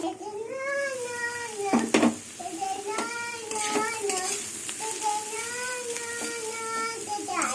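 Beetroot, carrot and peas fry with egg bhujia in a covered pan, a soft sizzle and occasional stirring clatter beneath someone talking throughout.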